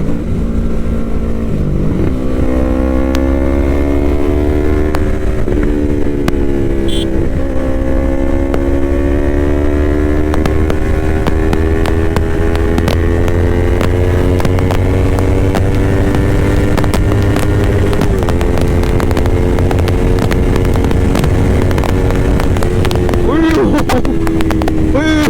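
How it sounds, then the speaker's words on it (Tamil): A Yamaha YZF-R3 motorcycle at high speed, its engine a loud sustained drone that slowly climbs in pitch, buffeted by heavy wind noise, with a rider speaking over it now and then. "இதெல்லாம் 200 தாண்டி போயிடும் போல இருக்குதுங்க வண்டி"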